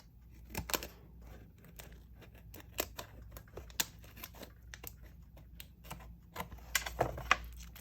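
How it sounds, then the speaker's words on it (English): Scissors snipping along the edge of paper for a handmade gratitude journal kit, a run of sharp crisp clicks and cuts in an irregular rhythm, close and fairly loud, with no talking. "I'm going to take some scissors and cut along this edge."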